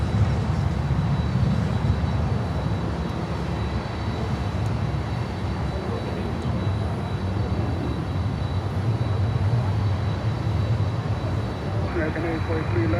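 A large jet, an American Airlines Boeing 777, arrives at Miami Airport, its steady broadband engine roar filling the scene continuously at moderate distance, with faint background voices underneath.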